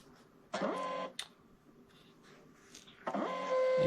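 A KNAON 4x6 portable thermal shipping label printer whirs close up in two short paper-feed bursts separated by a quiet pause, with a steady electronic beep sounding during the second feed.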